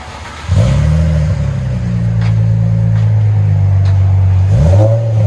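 A car engine jumps from idle into a loud rev through a new muffler, holds a steady elevated drone, then dips and climbs again near the end.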